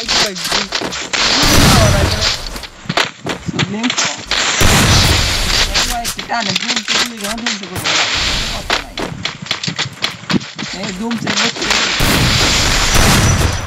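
Rapid bursts of video-game gunfire, loud and close, with booms and thuds, while a voice talks excitedly over the shooting.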